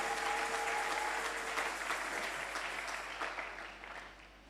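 A church congregation applauds during a sermon to acclaim God, a broad, sustained wash of clapping that holds steady and then gradually fades over a few seconds.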